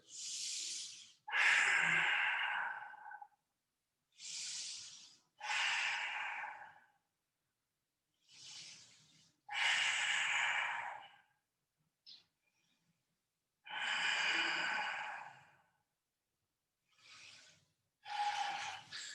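Deep, slow breaths during a yoga pose, each long inhale and exhale drawn in and out with a soft hiss, close and alone with quiet pauses between, repeating steadily.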